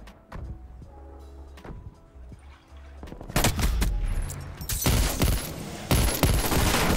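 Gunfire from the new Vargo 52 gun in a shooter video game, starting with sparse distant shots and quiet thuds, then breaking into loud, rapid automatic bursts with sharp cracks close by.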